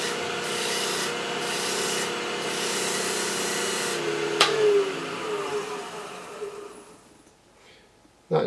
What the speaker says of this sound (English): we're going to remove some of these little fibres that have risen up once again with the natural bristle brush